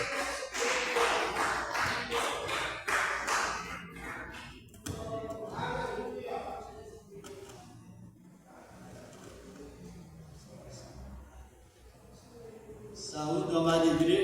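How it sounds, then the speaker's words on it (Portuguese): A church congregation at a teaching and doctrine service in São Mateus claps loudly at first with dense, fast hand claps, then the clapping thins and fades before a rising swell of sound at the end. "com alegria, com as palmas bem fortes para Jesus Cristo."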